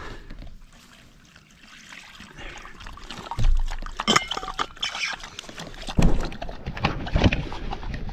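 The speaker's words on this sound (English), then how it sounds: "I'm pouring this water from Mira." Water pours and trickles steadily over several seconds, splashing louder in spots, with a soft outdoor background in the mountains above Oaxaca.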